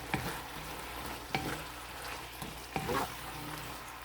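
Tofu sizzles in a pan as it is stirred into a sauce with okra, with a utensil scraping the pan about every second and a half over a steady frying hiss.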